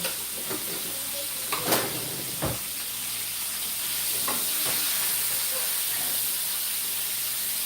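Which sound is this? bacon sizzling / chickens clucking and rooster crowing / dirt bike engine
bacon sizzling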